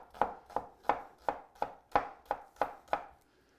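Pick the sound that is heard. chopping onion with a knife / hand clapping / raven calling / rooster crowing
chopping onion with a knife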